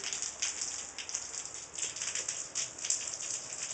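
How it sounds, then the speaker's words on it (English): Steady rain patters outdoors in a continuous hiss with scattered louder drops, close and fairly even throughout. "Feel the rain."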